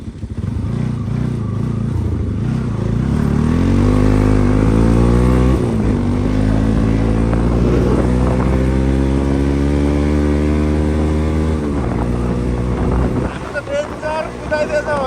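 Motorbike ridden along a dangerous mountain road in Upper Mustang, engine droning loud and close throughout, pitch rising and falling with gear changes, buffeted by wind noise.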